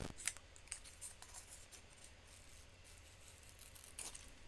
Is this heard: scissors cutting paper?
yes